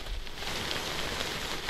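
Rain pours in the video game Death Stranding, a dense, even hiss of falling drops that stays constant and fairly loud with no voices.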